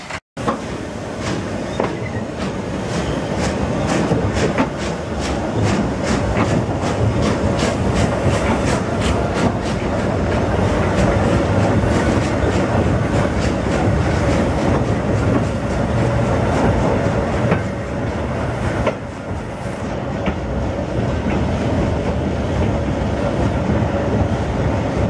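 FFJ 34 train running on the Limfjordsbanen line in Denmark, heard from inside: loud, steady rolling rumble with regular clickety-clack wheel beats over rail joints throughout, no talk.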